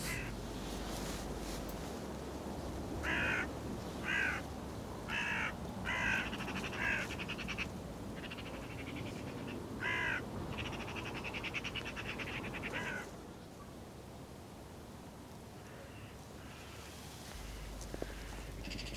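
Magpies and other corvids caw and chatter in a noisy commotion outdoors on a hillside, with repeated harsh calls at a moderate distance over steady wind-like background noise.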